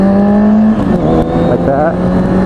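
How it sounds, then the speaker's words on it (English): A motorcycle engine hums steadily, then rises in a quick throttle blip during a downshift, loud and close with wind noise throughout. "you just need to give it a tad blip when you're downshifting"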